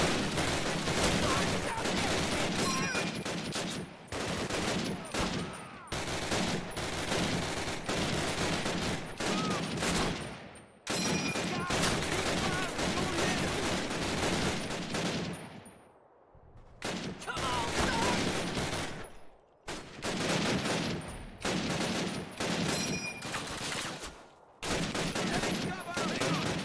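Dense battlefield gunfire from the Call of Duty video game, World War II setting: sustained rifle and machine-gun volleys roar almost without pause, broken by a few brief lulls, with voices shouting over the din.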